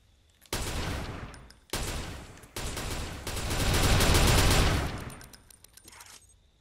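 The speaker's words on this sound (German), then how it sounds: "Wir schießen 10-mal und... Oh, waren das jetzt 20 Schuss?" Rapid automatic gunfire in long bursts separated by brief pauses, loud and close, swelling into a sustained volley before tapering off, in the video game Watch Dogs.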